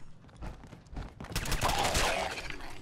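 Gunfire in the video game Fallout 4: dense, rapid bursts of shots that build into a loud, sustained volley over the last half, with no talking.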